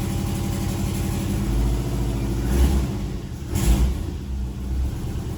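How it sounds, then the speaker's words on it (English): A Subaru Impreza GF8 engine idles with a rough, rumbling exhaust note that puffs and rasps from an exhaust leak underneath, near the header gaskets. It swells briefly twice and has no voices. "Sounds like I got a pretty bad exhaust leak underneath."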